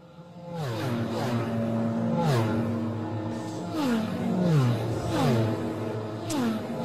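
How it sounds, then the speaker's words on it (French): Racing motorcycle engines at the Bol d'Or endurance race scream past in a series of high-revving runs, pitch climbing through gears and dropping away as each bike passes, loud and close with several machines in succession. "C'était la moto."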